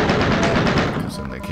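Rapid continuous chain gun fire in the video game Doom, a dense rattling stream of shots that keeps going loud and close throughout.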